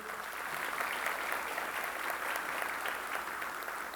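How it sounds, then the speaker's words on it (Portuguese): Steady applause from an audience at a court leadership inauguration ceremony, continuous and fairly even, filling the room throughout with no voices over it. "abalho incansável da colega Zeneide Bezerra, que merece o nosso aplauso."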